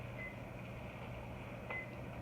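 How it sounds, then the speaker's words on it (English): A barbecue smoker's alarm beeps twice, short and faint, over a steady low hum while a brisket is smoking. "It's beeping. I think it's cooling off."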